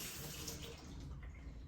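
Cooking utensils are rinsed under running tap water in a continuous, fairly faint gush with light splashing, steady throughout with no talking.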